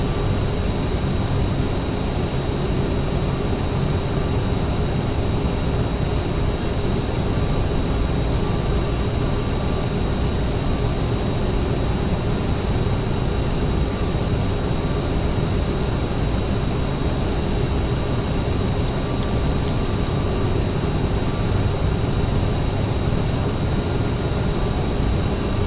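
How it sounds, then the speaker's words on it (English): Jet engines of a CRJ-900 airliner in Flight Simulator X, a steady broadband roar that holds at an even level for the whole stretch, heard alone with no talking. "Sound of the engines is really nice."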